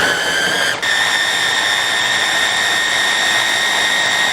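A mixer grinder whirs steadily at high speed, grinding seedless black grapes in its jar; a loud continuous motor whine with a brief dip near the start, no talking.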